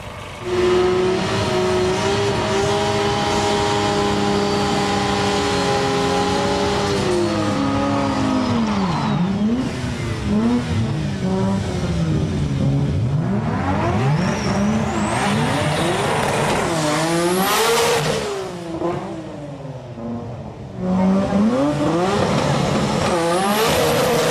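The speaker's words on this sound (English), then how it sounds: "Here's that tough Mori R32 with the HKS 3240 turbos" A Nissan GT-R R32 with HKS 3240 turbos drag races at a high-performance import event. Its loud, close engine roars through rising and falling revs and gear changes, with squealing tires, for the whole stretch.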